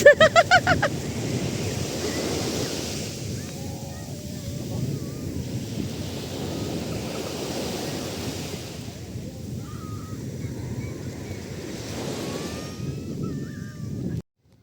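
Ocean waves wash continuously onto a beach, a steady rushing surf close by, with faint distant voices and calls now and then.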